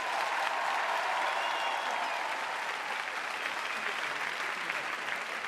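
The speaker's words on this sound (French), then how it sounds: "le public vous applaudit très fort" Loud, sustained applause from a large television studio audience, a dense wash of clapping holding steady throughout.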